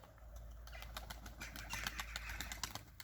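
Young pigeons landing on the ground, with brief wing flaps and soft cooing and chirping repeating through the moment against steady low background noise; no talk is heard.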